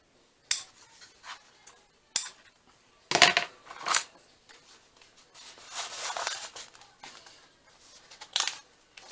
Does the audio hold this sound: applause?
no